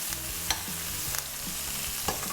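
Lamb browning in a frying pan with garlic and herbs gives a steady, close sizzle and hiss, with a few light stirring knocks scattered through it and no voices.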